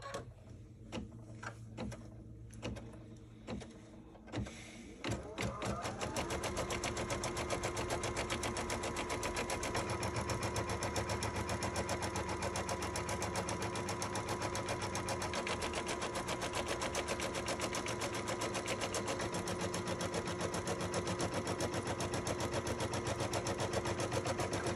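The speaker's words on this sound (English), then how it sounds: "The next step will be stitching the placement stitch for where you're supposed to place the fabric." An embroidery sewing machine stitches a placement stitch while making a Kimberbell Sweet Land of Liberty pillow pie block, starting with a few scattered clicks before settling into a fast, continuous mechanical whir and rattle that runs steadily to the end.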